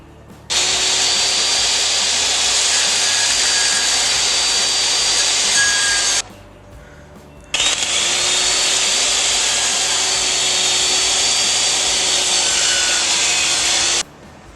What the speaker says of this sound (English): we set the blade to a 45-degree bevel, and we're gonna rip this off like this